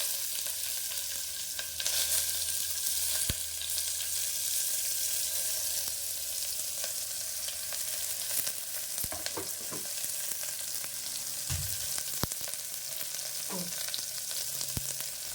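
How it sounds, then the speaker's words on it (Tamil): Long-sliced large onions sautéing in a pan, a steady close sizzle and fry with occasional soft stirring clinks and scrapes, no talking. "வெங்காயம் நல்லா வதங்கணும்."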